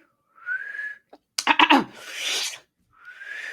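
A person whistles the Tales from the Crypt theme, a few clear sustained notes broken by a short scraping, breathy noise, then the whistled tune resumes, close and solo.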